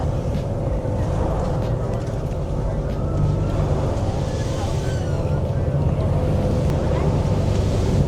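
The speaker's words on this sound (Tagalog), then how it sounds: "Hangin." Steady, roaring wind buffets the microphone outdoors at an Alaskan glacier, a constant rumble with a faint wash of water or waves beneath it.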